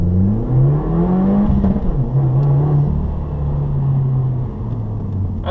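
A 2015 Subaru WRX launching from about 4,000 RPM, the engine droning loud and close with rising and falling pitch as it pulls away, rumbling throughout, no speech.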